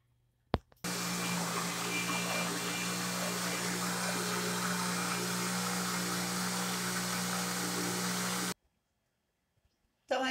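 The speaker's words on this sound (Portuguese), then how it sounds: "Agora eu vou levar no liquidificador, vou retirar o pau da canela que está aqui, que ferveu junto, e vou liquidificar." A blender purees pumpkin soup, a cream of kabocha squash, switching on with a click and running as a steady, loud motor whir with a constant hum for about eight seconds before stopping abruptly.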